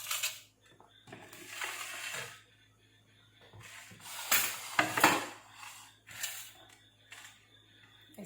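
Vegetables cut lengthwise into long strips with a knife, a series of close, intermittent scraping and chopping bursts against a board separated by quiet pauses, no speech.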